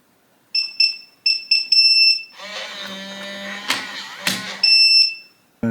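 An older Defiant keypad door lock sounds a run of short, sharp electronic beeps from button presses, then a longer buzzing tone with mechanical whirring and clicks, close and loud, ending with another beep.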